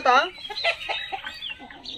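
Chickens and a rooster cluck in a short, close burst of harmonic calls, followed by softer scattered clucks and chatter from the flock.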